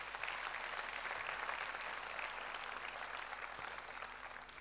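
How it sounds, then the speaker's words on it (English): Steady applause from an audience at a UD Trucks product launch event, sustained and even across the whole stretch with no break, welcoming a co-host to the stage. "Let's please, big round of applause."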